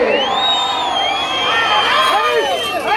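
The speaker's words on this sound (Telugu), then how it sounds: "మనందరం గట్టిగా ఒక్కసారి చప్పట్లు" Crowd at a Sankranti festival celebration with bull races in Yerragondapalem cheering and whooping loudly and continuously, with shouts and high voices rising over a dense roar; applause is not clearly distinct within the cheering.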